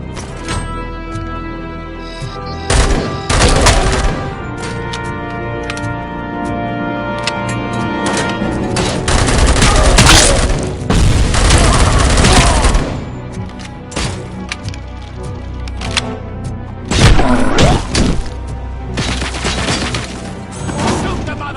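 Gunfire and crashing impacts in Robocop Rogue City, loud bursts of shots and heavy thuds clustered in dense volleys with brief lulls, close and aggressive.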